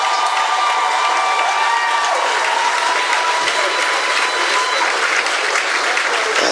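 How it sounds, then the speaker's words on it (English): A large crowd applauds as a giant national flag is carried onto the parade grounds at a St. Kitts and Nevis Independence ceremony. The clapping is loud, dense and sustained throughout. "And the crowd is showing their enthusiastic appreciation of this, our national symbol, our national flag."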